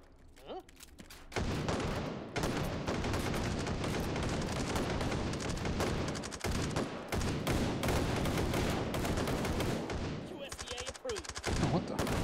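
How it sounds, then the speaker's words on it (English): Hot Dogs, Horseshoes & Hand Grenades virtual reality shooter battle: after a quiet opening, a dense, loud stretch of booming blasts and rapid gunfire fills most of the clip, with short dips and a final burst near the end. "Someone threw a grenade."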